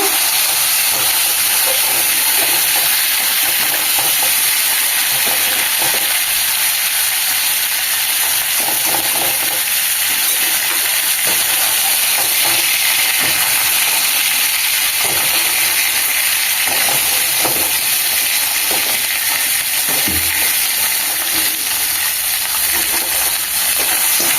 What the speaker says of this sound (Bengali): কাঁকড়ার দাঁড়া ভেজে নিয়েছি, তুলে নেব।